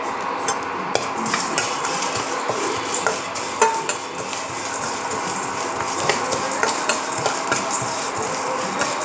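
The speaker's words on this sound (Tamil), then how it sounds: "இதை மூணையும் போட்டு நம்ம நல்லா பொன்னிறமாக வறுத்துடலாம் வாங்க" Urad dal and curry leaves dry-roasting in a pan with steady stirring, a soft continuous rustle and sizzle broken by frequent light scrapes and taps of a spoon against the metal, close and unhurried.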